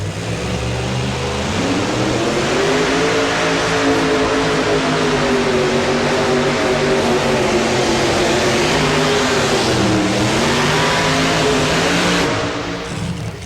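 A Corvette-engined two-wheel-drive pulling truck roars loud and close throughout a pull at a 1992 truck pulling event in Louisville, its engine note holding steady and rising and dipping in pitch before easing off near the end.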